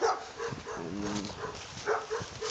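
Dogs barking outdoors in a yard, a steady run of overlapping barks and yips at moderate volume that carries on throughout without pause.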